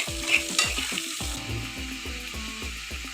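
Cucumber, tomato and green chilies stirred in a pan, a spoon scraping through the vegetables in a steady series of close, rhythmic strokes over a soft sizzle, with no voices.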